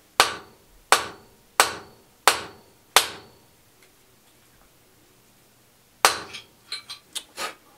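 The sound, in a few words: hammering wax into a 7.62x39mm rifle cartridge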